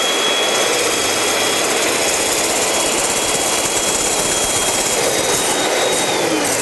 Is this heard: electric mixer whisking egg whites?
yes